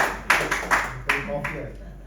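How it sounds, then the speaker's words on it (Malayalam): A few scattered claps ring out from an audience at a DXN state head meeting, sparse and uneven, with a faint hum underneath. "big clap"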